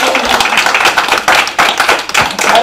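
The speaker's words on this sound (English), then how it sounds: "Uncle AK, let's give him a hand of applause." Audience at a live episode recording claps by hand in a brisk, uneven burst of close, sharp claps that continues steadily for a few seconds.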